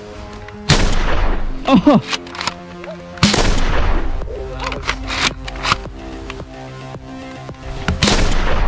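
A Nerf CEDA Jet Blaster fires several loud, sharp shots with pauses between them during a one-on-one toy blaster fight, with a brief exclamation and some handling noise in between.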